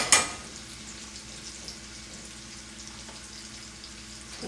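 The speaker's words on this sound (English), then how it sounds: "I'm going to finish frying these up" Green beans frying in oil for a keto green bean casserole, giving a steady soft sizzle up close that follows a brief clatter at the start and runs on alone without talk.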